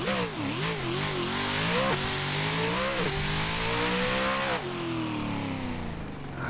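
A race car engine in the Assetto Corsa racing game revs hard and continuously, climbing through the gears with brief dips at each shift, loud and close throughout with no talking.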